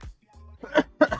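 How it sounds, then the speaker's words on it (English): A couple of short, rough coughs sound up close after a brief low hum, fairly quiet and bunched together. "dang, this cough."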